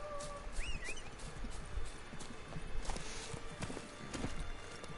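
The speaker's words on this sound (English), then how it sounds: "Let's call my horse." Roach, the horse in The Witcher 3, clip-clops along at a steady pace while several high neighs and whinnies ring out over the moving hooves, heard fairly close.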